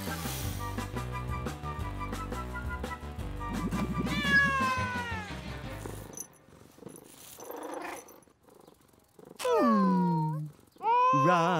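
A cartoon cat meows and yowls over bouncy music, then after the music drops out, loud drawn-out meows and a caterwauling cry ring out clearly and close.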